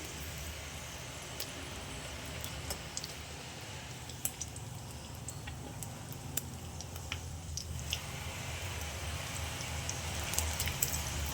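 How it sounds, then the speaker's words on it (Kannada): Chopped garlic fries in oil in a pan for paneer fried rice, giving a steady, soft crackling hiss with scattered small pops throughout. No one talks over it. "ಚಾಪ್ ಮಾಡಿ ಇಟ್ಕೊಂಡಿರೋಂಥ ಬೆಳ್ಳುಳ್ಳಿ ಹಾಕೋತಾ ಇದ್ದೀನಿ"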